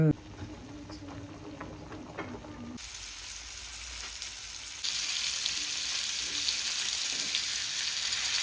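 Bangda mackerel fish frying in a pan at a home wedding gathering, a steady close sizzle with faint voices in the background, the frying hiss growing louder and denser partway through.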